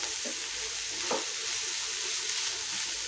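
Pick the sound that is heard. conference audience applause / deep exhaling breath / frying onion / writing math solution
frying onion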